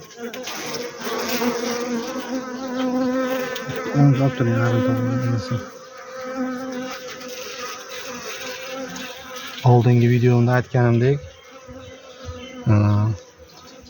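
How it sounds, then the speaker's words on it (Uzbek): Honeybees buzz steadily around a hive during spring beekeeping work, a continuous drone that runs throughout while someone talks over it. "Mana bundan buyoni endi ari qo'ysa, arilar rosa dam olib, kuch sarf qilmagan bo'ladi."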